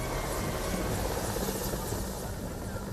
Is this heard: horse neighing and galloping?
no